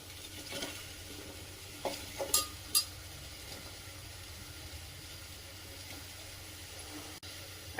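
Round carrot slices sauté in a spoonful of ghee for carrot halwa, giving a faint steady sizzle with a few scrapes and clinks of a spoon stirring in the pan.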